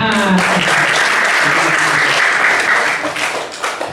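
Dense applause from an audience at an Islamic boarding school (santri) gathering, loud and continuous, tapering slightly at the end.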